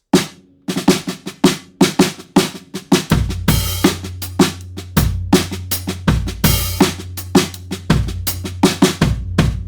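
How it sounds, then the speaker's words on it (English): Vintage-style, heavily muffled fat snare drum struck in a steady groove, short thuddy hits with little ring, playing alone within a full kit pattern with a sustained low tone underneath in places. "the very currently in style chic vibe of vintage super muffled drums"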